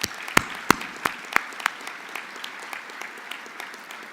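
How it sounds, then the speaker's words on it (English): Audience applause for Tyrone Taborn at the Black Engineer of the Year Conference: a few loud, sharp claps stand out at first, then a thinner patter of clapping that fades over four seconds. "Let's give him a round of applause."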